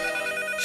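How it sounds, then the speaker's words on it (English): A telephone rings with a brief electronic trill, heard alone and fairly clear. "don't want to miss this phone call"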